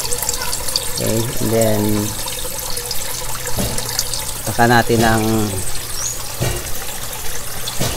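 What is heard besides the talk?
water being poured to take a water sample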